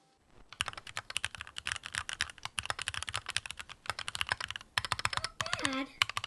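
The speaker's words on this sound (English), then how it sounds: "And it has Gateron Pro Milky Yellow keys. And so let's take a listen to this keyboard here." Mechanical keyboard fitted with Gateron Pro Milky Yellow switches typed on at a steady, fast pace, producing dense clusters of crisp key clacks close to the mic, with a brief pause near the end.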